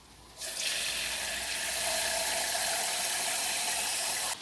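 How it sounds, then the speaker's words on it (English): Tap water runs steadily into a jug, filling it with a continuous close rushing and splashing stream that starts abruptly, holds for about four seconds and cuts off, with no talking. "and then just fill that jug with water."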